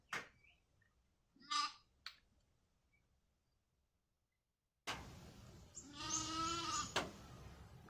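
Sheep in a flock bleat, one quavering bleat early on and a louder, longer wavering bleat later over a rougher background, with quiet gaps between.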